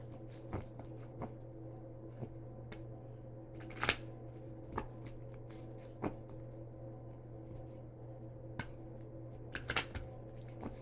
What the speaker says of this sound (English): so you can see that I'm shuffling.